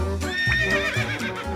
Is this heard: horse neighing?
yes